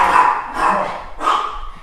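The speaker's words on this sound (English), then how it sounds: "I'm going to wait till the barking subsides." Dogs barking in a few sharp bursts, fairly close and loud, with short pauses between the barks.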